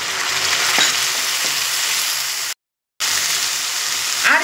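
Spice paste fries loudly with onions, turmeric and a little water in a pan for chicken curry, a dense continuous sizzle with a few stirring scrapes and one brief silent gap partway through.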